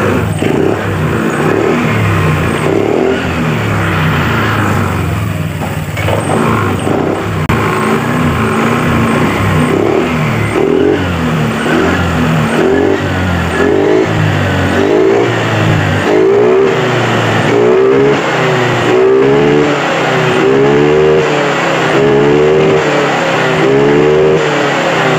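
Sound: Honda Vario 125 scooter engine revving

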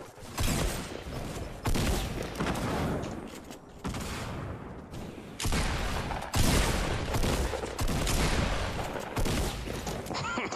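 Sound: LMG machine gun firing in Fortnite video game

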